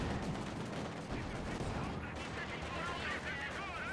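Tank gunfire in the World War II strategy game Company of Heroes 2, with Panzer IV and T-34 tanks trading shots amid a dense battle din of small-arms fire and explosions, steady and fairly loud throughout.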